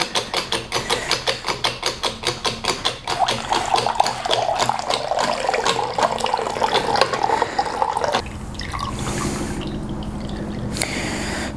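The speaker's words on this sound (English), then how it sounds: "press as much liquid as you possibly can out of your decoction" Liquid is pressed out of an herbal decoction with a run of rhythmic squeezing pulses at first, then a steady trickle and splash of liquid, close and fairly loud, with no talk.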